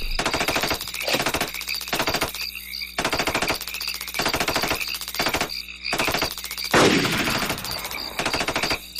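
Gunfire in a radio drama, loud bursts of rapid machine-gun fire repeating in a steady rhythm, close and harsh, with a louder blast near the end.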